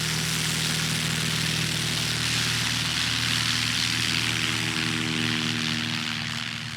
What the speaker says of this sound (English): Full throttle there, building up some speed, and Matt Peterson is off.